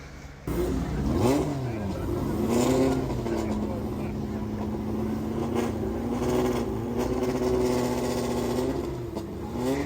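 A little yellow taxi at a drag race revs its small, high-pitched engine, with throttle swells then a sustained run, heard from close range while people talk over it.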